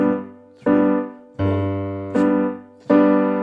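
Piano plays Silent Night in three-beat time, a low bass note struck and then answered by fuller sustained chords, each stroke ringing out and decaying before the next, alone and close.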